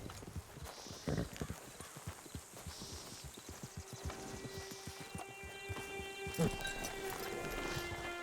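Horse hooves clip-clop steadily at a walking pace in Red Dead Redemption 2 Online, loud and close, with a faint whinny and a bright in-game musical tone later in the passage.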